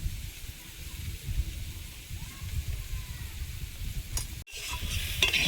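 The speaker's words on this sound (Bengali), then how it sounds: "কাঁচা সবজি ভালোভাবে ভেজে নিয়ে নুন হলুদ দিয়ে আর একটু ভেজে নিয়েছি।" Raw vegetables with salt and turmeric fry in a pan, a steady close sizzle with occasional stirring scrapes, then a brief break and a brighter burst of hissing.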